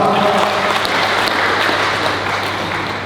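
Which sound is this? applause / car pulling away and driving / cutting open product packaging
applause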